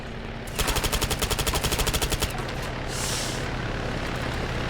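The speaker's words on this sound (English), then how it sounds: "I'm trying to shoot the pilot here." Rapid automatic bursts from an HK MP7 personal defense weapon in ARMA 3, a fast even string of shots lasting about two seconds, then a low steady rumble with a brief hiss.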